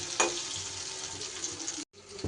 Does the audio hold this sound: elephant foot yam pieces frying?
yes